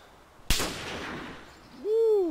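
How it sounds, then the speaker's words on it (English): A single sharp shotgun blast in DayZ Standalone cracks out nearby and leaves a long decaying tail, with a rising whistle-like tone following shortly after. "No, that was a shotgun, it sounded like"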